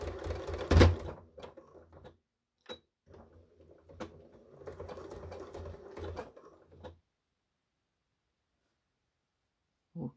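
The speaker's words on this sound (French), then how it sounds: "Et on vient coudre." A sewing machine stitches a running backpack in short bursts of rapid mechanical chatter separated by pauses, with a sharp knock near the start and a brief click at the end after several seconds of silence.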